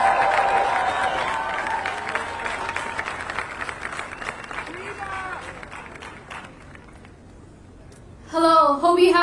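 An audience at a climate rally in Los Angeles claps for a speaker, a dense crackle of applause that gradually fades away before a voice begins talking at the end.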